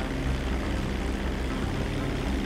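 Steady, continuous drone of an airplane engine in flight before landing in the video game GTA 5, even and unbroken throughout with no talk over it.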